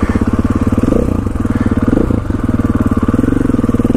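A dual sport motorcycle sitting at idle after a hill climb on a West Virginia back road, its engine loud and close, thumping in a steady, even rhythm throughout.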